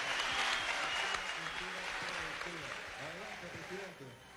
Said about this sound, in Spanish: desde aquí le damos un aplauso también